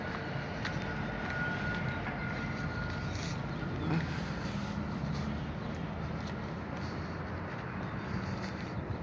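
A Sounder commuter train rolls past Tukwila station in a faint, steady rumble heard from a distance, with no talking over it.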